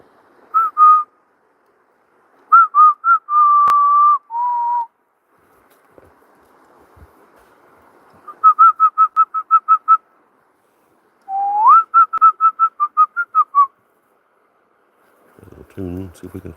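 A man whistling a tune outdoors in the woods, in clear short melodic phrases and rapid repeated notes separated by pauses, close and loud, with a brief bit of other sound at the very end.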